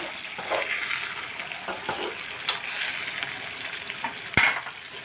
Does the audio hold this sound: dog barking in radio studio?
no